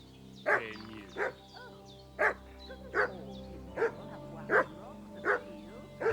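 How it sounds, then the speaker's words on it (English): A dog in the video game Kingdom Come Deliverance II barks repeatedly, about nine evenly spaced, moderately loud barks over a steady tonal background with faint voices. "The dog needs to quiet down."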